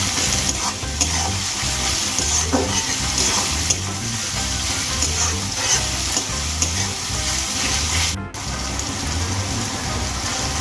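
Cut green chilies fry with lightly fried onions in a pan for a garlicky data shak dish, a loud continuous sizzle with rhythmic scraping as a spatula stirs repeatedly, broken by one brief dropout near the end.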